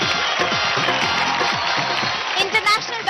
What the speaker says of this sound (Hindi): सबसे पहले जोरदार तालियां हो जाए